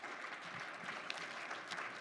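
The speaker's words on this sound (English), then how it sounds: "we also need a round of applause for the timer and the moderators" A round of applause at a Secretary of State debate event, honouring the timer and moderators: steady, dense clapping from an audience, continuous for two seconds and fairly quiet, as if heard from a distance across the room.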